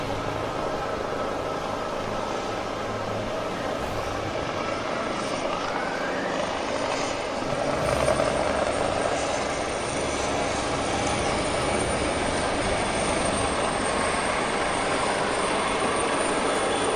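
Military aircraft passing over an Independence Day parade, a loud, steady broadband roar of engines and rotor-like drone that swells slightly around the middle and stays constant throughout, with no talk.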